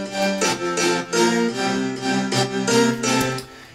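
Synth strings layered with piano play a dense, full chord passage, with rhythmic swells and steady sustained tones, loud and alone without any voice.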